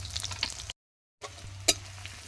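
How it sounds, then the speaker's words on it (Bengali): Green chillies and onion frying in hot oil give a steady, quiet sizzle with light stirring scrapes, cut by a brief gap of silence and one sharper clatter. "এবার কাঁচা লঙ্কা আর পেঁয়াজ দিয়ে দেবো।"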